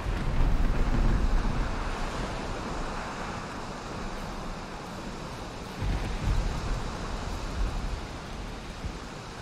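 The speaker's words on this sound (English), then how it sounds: "Look at the waves." Ocean waves in the Valheim video game wash and roll continuously near the shore by a dock during a storm, a dense, close surf roar mixed with wind noise, slightly louder at the start, with no talk.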